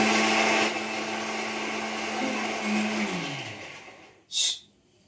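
A kitchen mixer grinder runs with a loud steady whine that then winds down and stops, followed by a brief clatter as the jar is handled, close up with no talk.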